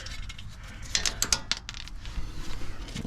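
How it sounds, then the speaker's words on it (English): A ratchet works on the brake caliper bolts of a Ram truck, giving short quick clicking bursts with small metallic clinks, close and fairly quiet, with no talk. "Take these 2 caliper bolts off."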